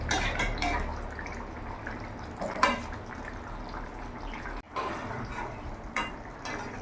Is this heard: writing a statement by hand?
no